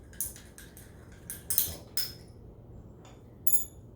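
A glass stirring rod clinks against a container while tetraborate solution is mixed, producing a few sharp, light metallic-glassy taps spread unevenly over several seconds, close and fairly quiet with no talking.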